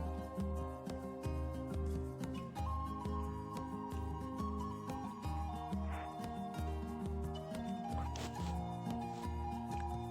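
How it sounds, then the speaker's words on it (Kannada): A sewing machine runs steadily while stitching piping for a plain blouse, a close, rapid mechanical whirr with rhythmic needle clatter and a few brief changes in speed. "ನೋಡಿ ಈ ಥರ ಸ್ಟಿಚಿಂಗ್ ಮಾಡ್ತಾ ಹೋಗಿ ಇದನ್ನು ಪೈಪಿಂಗಿಗೆ ರೆಡಿ ಮಾಡ್ಕೋಬೇಕು."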